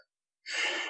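A voice imitates heavy, labored breathing, a single harsh breathy exhale-like rush that starts after a moment of silence and holds loud and close to the end.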